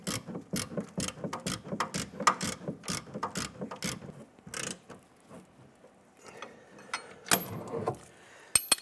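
Hand ratchet tightening the front upper control arm bolt on a 2015-2020 Cadillac Escalade: rapid clicking strokes close up for several seconds, then slower, sparser clicks and metal handling, with no talk.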